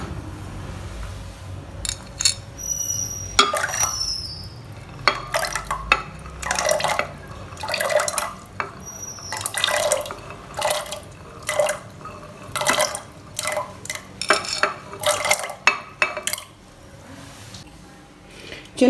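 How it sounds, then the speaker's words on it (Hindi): Pomegranate seeds dropping into a glass of milk for a creamy milkshake, a run of soft wet plops and drips spread over the whole stretch, close and fairly clear, no talking. "सबसे पहले हम डालते हैं अनार दूध के अंदर।"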